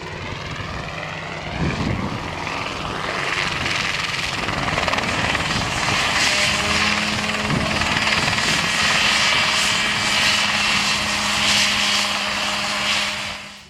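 A small personal helicopter runs with its rotor blades spinning, a loud steady engine and rotor drone held close and continuous for the whole stretch, with a faint chopping pulse underneath.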